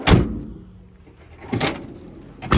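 A 2012 Renault Trafic van's door thuds shut nearby, followed by two more sharp bangs as it is pushed closed again, with quiet gaps between; the door does not close properly on its own.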